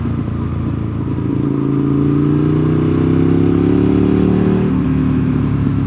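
A motorcycle engine idles close by, then revs up and holds at a steady, slightly higher pitch before easing back, loud and continuous with no talking.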